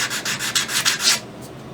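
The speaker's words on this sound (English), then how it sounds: "So that's why I'm using a file as the backer there." Rapid back-and-forth rasping of sandpaper backed by a file, worked against a part of a Kibler Colonial rifle kit during latch fitting; close, rhythmic strokes about every fifth of a second, then quieter.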